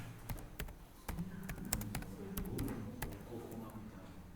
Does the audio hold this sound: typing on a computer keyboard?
yes